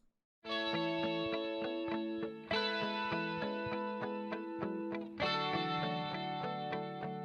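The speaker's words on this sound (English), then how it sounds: "and then we got all of these guitar parts." Layered electric guitars play strummed chords with effects, three phrases starting after a short silence, each with a fresh attack and ringing sustain.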